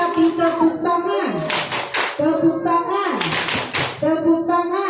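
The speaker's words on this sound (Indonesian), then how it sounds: "Siapa suka hati tepuk tangan?" Group hand clapping during a parenting session, rhythmic bursts of claps in short patterns alternating with a voice chanting or speaking between them, fairly close and loud.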